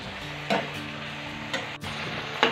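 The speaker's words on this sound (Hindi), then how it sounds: "सब्जी को हम अच्छे से मिक्स करेंगे।" Bottle gourd bharta sizzles softly in a pan on the stove while a spoon stirs it, with a few light clacks of utensil against pan over a steady low frying hiss.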